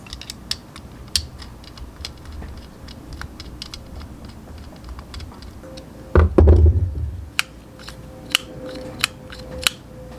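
Small screws are fastened back into a CSC TT250 motorcycle carburetor, producing scattered close metallic ticks and scrapes, a brief louder clatter partway through, then a few sharp clicks.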